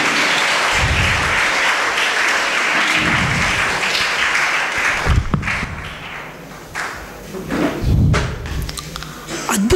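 Audience applause welcoming a guest speaker at a Kannada public programme, a dense, steady clapping that runs strongly for several seconds and then thins into scattered claps and thuds near the end.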